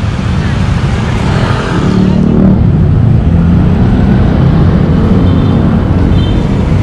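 Road traffic near the Pasig River Esplanade in Manila, a dense steady rumble of passing cars and motorcycles, loud and close, with a faint murmur of voices in the mix.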